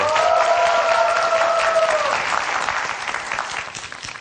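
A crowd claps steadily, loud at first and then tapering off, with a brief voice rising over the start of the applause.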